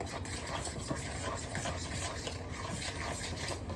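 Baking soda and water being stirred into cookie dough in a bowl, a steady close scraping and rubbing that runs without a break at even loudness.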